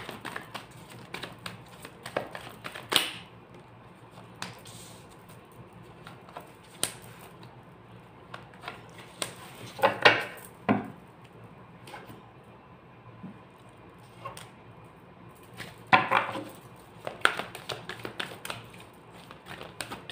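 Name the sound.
shuffling tarot cards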